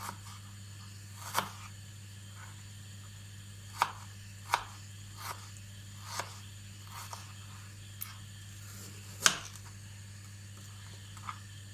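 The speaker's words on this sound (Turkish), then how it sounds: "Bunları şimdi küp küp doğrayacağım." Knife chopping chicken breast and red pepper into small cubes on a cutting board, a dozen or so sparse, irregular taps over a steady low hum, close by with no talk.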